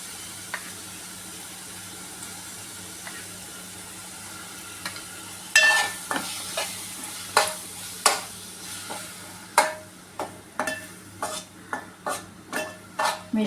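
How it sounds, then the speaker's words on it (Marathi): A grated coconut and mango pulp filling for modak is stirred in a pan: near-silence at first, then a run of sharp, regular scraping strokes over a faint low hum. "मिश्रण व्यवस्थित एकजीव होईपर्यंत परतून घेऊया"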